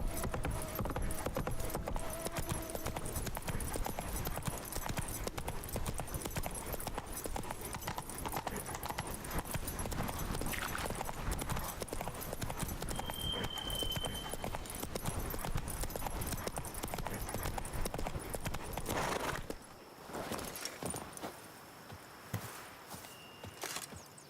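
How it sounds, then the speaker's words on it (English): Hooves of Roach, the horse in Witcher 3: Blood and Wine, pound in a fast, continuous galloping clip-clop that dominates for most of the span before stopping, leaving quieter ambience. "the horse is kind of hard to control at times"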